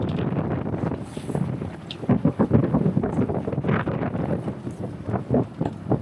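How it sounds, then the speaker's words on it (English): Strong gusts of wind batter the microphone with loud, uneven rumbling buffets, with water sloshing beneath. "it got super windy"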